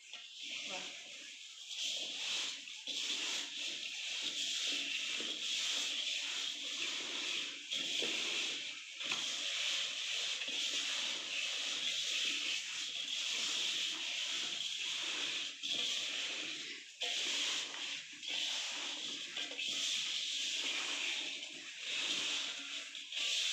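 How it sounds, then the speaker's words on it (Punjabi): Mango pickle being stirred and tossed by hand in a vessel, a steady close-up wet rustle and hiss broken by frequent short scraping clicks and squelches that run unbroken for the whole stretch. "ਤੇ ਹੁਣ ਆਪਾਂ ਇਹਨੂੰ ਚੰਗੀ ਤਰ੍ਹਾਂ ਦੇ ਮਿਲਾ ਲਾਂਗੇ"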